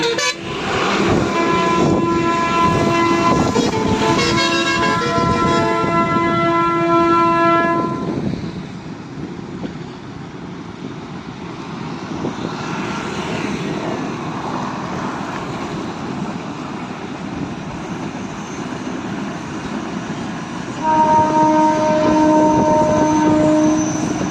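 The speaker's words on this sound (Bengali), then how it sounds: "ছুটে চলেছে গোঘাট থেকে তারকেশ্বর বা হাওড়াগামী ট্রেন" An Indian train from Goghat toward Tarakeswar or Howrah blares its horn in long harmonic blasts, then fades into a steady rumble on rails over water in rain, before the horn sounds again near the end.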